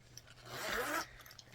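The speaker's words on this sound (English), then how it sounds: "You have the big chunky plastic zippers that come with the reactive bags." Big chunky plastic zipper on a Vera Bradley crossbody bag, pulled in one short, close rasping stroke that swells and fades within about a second, with no talking.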